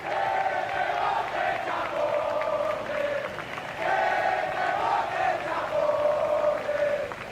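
A large crowd booing Spanish Prime Minister Pedro Sánchez at the Día de la Hispanidad celebration, a sustained rolling chorus of jeers and shouts swelling in waves from a distance.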